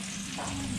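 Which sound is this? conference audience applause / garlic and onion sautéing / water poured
garlic and onion sautéing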